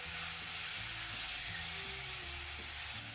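Vegetables cooking over a high flame in a pan, a dense broad sizzle with a faint undertone of stirring, steady and close, that drops slightly at the very end.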